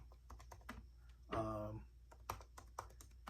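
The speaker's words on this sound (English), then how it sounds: "I'm actually going back to Twitter to see if I've missed anything by typing Dave Kaval" Quick, irregular clicks of typing on a computer keyboard, close and quiet, with a brief louder noise breaking in partway through.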